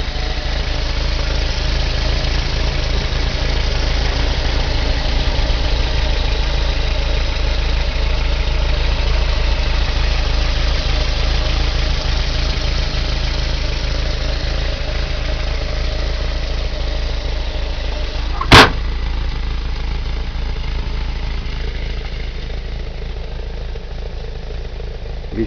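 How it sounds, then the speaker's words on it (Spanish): Steady, even idle of a 1994 Volkswagen Combi Carabelle van engine, a low continuous hum and rumble heard close up throughout, broken by a single sharp click partway through. "Veamos ahora una vista del motor. Vean ustedes, motor funcionando, ¿no?"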